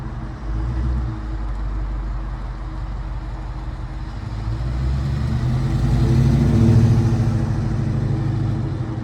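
Dodge Challenger R/T HEMI V8 driving around nearby, its deep engine rumble holding steady, then swelling louder as the car comes closer and passes before easing off slightly.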